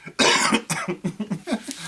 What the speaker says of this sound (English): Oh, I'm about to start coughing.